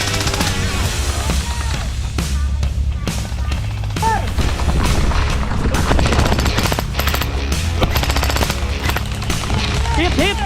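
Gel blaster guns fire in a Sunday skirmish game, bursts of rapid, snappy shots popping repeatedly across the field, some near and some further off, with players' voices mixed in.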